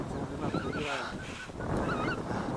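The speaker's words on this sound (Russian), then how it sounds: "этот гусь, засранец, не подпустил" Geese honk repeatedly outdoors during a goose hunt, a loose flock calling in bursts at moderate distance, with faint talk underneath.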